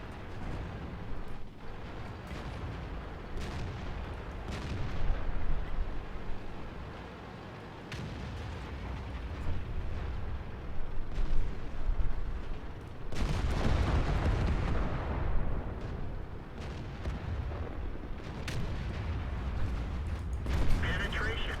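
Tank cannon fire and heavy impacts in a video game, with deep booming blasts rolling over constant rumble, the loudest around the middle. Someone talks over the gunfire almost throughout.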